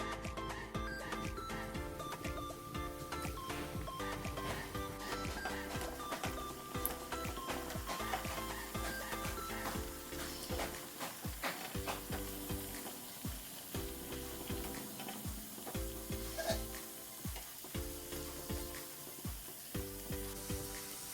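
Besan rava laddo mixture frying in hot oil in a pan, a faint, steady crackling sizzle with occasional soft clinks, heard alone throughout.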